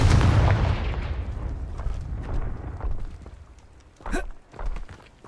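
Confringo fire spell explosion in the Hogwarts Legacy video game, a heavy booming blast that rumbles and decays over a few seconds, followed by a sharp crackling whoosh and softer thuds.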